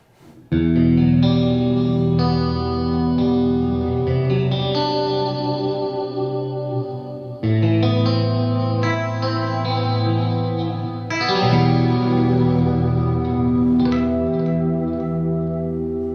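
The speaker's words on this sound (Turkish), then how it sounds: "Şimdi clean kanalı efektli duyuyoruz." Sustained chords on an electric guitar through the clean channel of a Taurus Stomphead 4HG amp, shimmering with chorus and echo effects, ringing loud and alone with a few chord changes.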